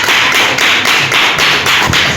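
Church congregation clapping in praise, loud, rhythmic pulses of many hands in a reverberant hall, steady and close, with no voices.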